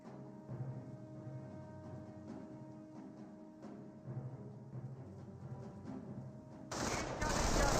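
Rifle squad gunfire in Company of Heroes, bursts of rifle and machine-gun shots crackling under a game soundtrack and talk, swelling louder near the end.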